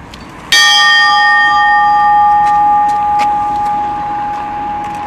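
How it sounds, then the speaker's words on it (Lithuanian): A church bell is struck once at a ceremony around a bonfire, ringing out loud and clear with a long, slowly fading hum over faint background murmur. "pradžioj prie varpo skambtel, žmonės su džiaugsmu pradėdami skambtelti"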